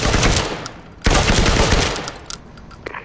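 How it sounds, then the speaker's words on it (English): A rifle fires at a target in a video game: loud, sharp gunshots ring out, one burst opening the clip and another just after a second, then a few fainter shots trail off. "Pull the trigger to fire your rifle at the target."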